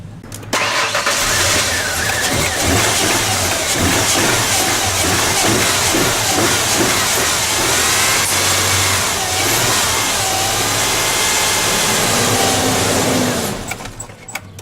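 A car engine with a suspected fuel pump fault cranks, catches and runs loudly with rough revving surges for several seconds, then cuts out abruptly near the end. No voices are heard.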